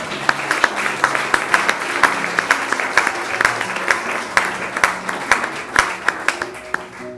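A church congregation applauds during a sermon, giving loose, scattered claps that rise and fall over a low sustained tone in the background.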